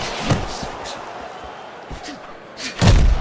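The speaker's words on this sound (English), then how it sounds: "He took a step back and landed the counterpunch." Punches land in the boxing game Fight Night Champion between Carlos Monzon and Emanuel Augustus, with a few soft thuds and then a sharp, heavy impact near the end, under a hushed arena background.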